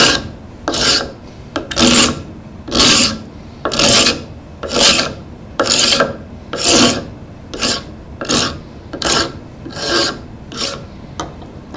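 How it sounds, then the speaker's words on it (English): A bench scraper pushed two-handed across a wooden cutting board, scraping off dried glue in about a dozen loud, rasping strokes with a steady rhythm, close up and without talk. "when you use the bench scraper, absolutely positively have to have two hands on the scraper"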